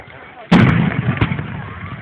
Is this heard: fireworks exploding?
yes